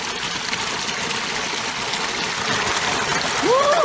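Water rushes out of a freshly unclogged dam in a steady, loud broadband gush that swells slightly toward the end, with a short whistle-like tone at the close.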